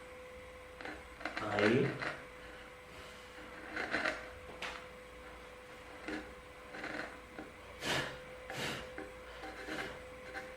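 Wood being cut by hand at a workbench for a through dovetail joint, giving intermittent scraping and rasping strokes in short bursts, while someone talks over and between them.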